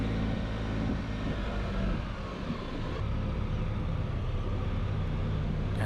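A 2018 Can-Am Spyder RT Limited three-wheeled motorcycle pulls away, its engine a steady, close, low rumble with a slight rise in pitch as it moves off, heard alone with no talking.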